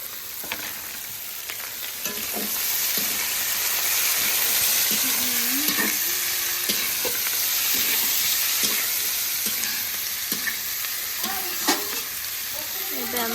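Onions and potatoes fry in a pan with a loud, steady sizzle and hiss, broken by occasional scraping stirs and small clinks, close and continuous with no talking.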